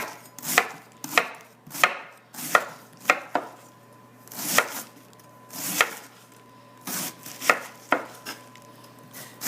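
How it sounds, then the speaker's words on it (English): A knife dicing fresh cabbage on a cutting board for tacos, a dozen or so crisp, close chops in an irregular rhythm with short pauses between strokes, no voices. "going to take fresh cabbage, we're going to dice this up"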